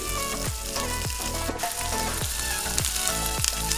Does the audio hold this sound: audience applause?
no